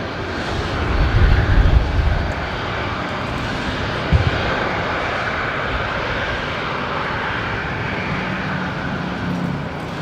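Airliner engines roaring at Brisbane Airport at night, a broad steady rumble from a distance that swells briefly early on, with a single faint knock partway through.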